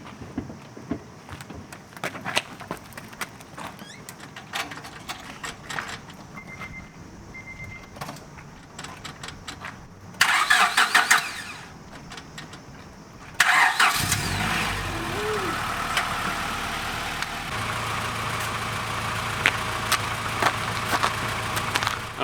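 A Honda DC2 being restored after sitting abandoned, heard nearby: clicks and short mechanical noises, a starter cranking, and then the engine catching and settling into a steady idle.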